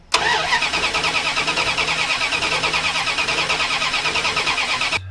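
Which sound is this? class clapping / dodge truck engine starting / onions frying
dodge truck engine starting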